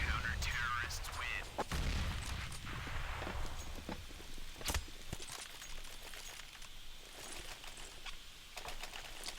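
Gunfire and an HE grenade blast in a Counter-Strike: Global Offensive match, with sharp shots and a louder burst among scattered game sounds, and a commentator talking over them.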